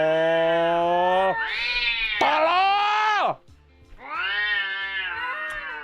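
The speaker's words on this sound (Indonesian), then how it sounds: "Ada yang dengerin suara kucing kawin disiram sama emaknya." Mating cats caterwaul in long, wailing, rising and falling yowls, loud and close, with a brief pause before a second drawn-out howl.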